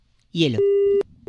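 A telephone call is hung up: someone speaks briefly, then a steady electronic disconnect tone sounds loud and clear, stops, and starts again.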